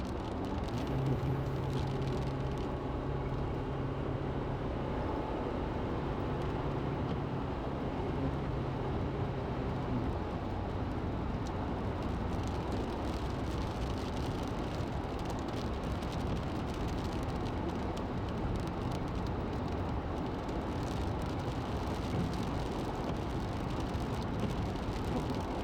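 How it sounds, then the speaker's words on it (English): Steady broadband rumble of a car driving on wet mountain road over Gore Pass near a reservoir in Colorado, with rain and wiper noise blended into constant road hiss, continuous and close. "It's raining just enough to really mess up the window, even with the wipers"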